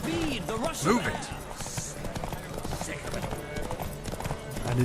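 Hooves clip-clop steadily as horses gallop in a race in The Witcher 3, a Nilfgaardian stallion among them, with a rider's voice and game effects over the rhythmic hoofbeats.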